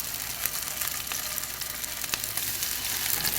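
An onion pancake coated in ground brown glutinous rice instead of flour pan-fries with a close, continuous sizzle, with a few soft crackles and no talking.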